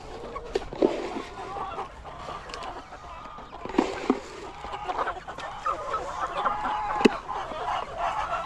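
Sick chickens cluck and squawk close by in an irregular string of calls, with a few louder squawks standing out over the quieter murmuring flock.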